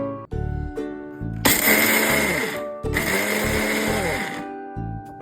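A mixer grinder blends spice powder as stuffing for bitter gourd, running in two loud whining bursts with a brief stop between, plus short low motor pulses at the start and end, near and alone.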